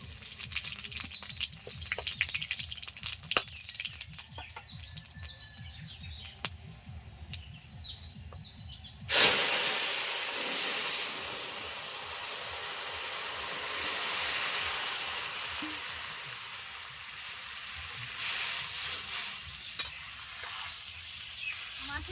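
Crushed ginger, two dried red chillies and whole cumin crackle quietly, then a sudden loud burst of sizzling erupts as something is added, settling into a strong, steady hiss of hot oil.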